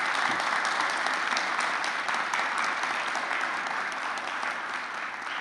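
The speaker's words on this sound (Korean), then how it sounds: "큰 박수로 환영해 주십시오." A church congregation gives a warm round of applause to welcome visiting pastors and their wives, steady close clapping that fills the room and slowly tapers.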